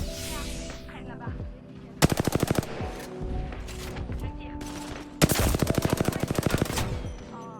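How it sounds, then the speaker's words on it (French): Automatic gunfire in the Apex Legends video game rattles out in two sharp, rapid bursts, with quieter game sounds and faint talk between them. "Pourquoi tu nous shootes dessus?"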